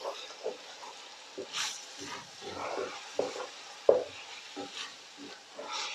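Chicken balti masala with methi stirred in a pan, with irregular scraping and shuffling strokes over a low sizzle, some strokes sharper and louder than others, no talking.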